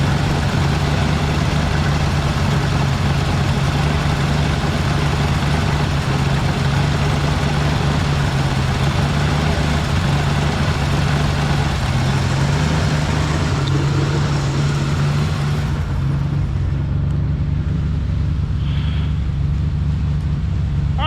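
A 1968 Ford F100 engine idles steadily after a valve adjustment on one side, a continuous low rumble with even tone throughout, close and fairly loud, with no talking.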